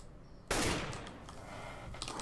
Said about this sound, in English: I think I'm shooting a barrel.